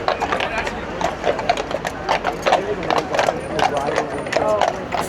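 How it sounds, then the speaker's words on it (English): Hooves of four horses clip-clop in a steady, overlapping rhythm on a paved street during a guard procession, moderately near, with faint crowd and traffic murmur behind. "four beautiful horses"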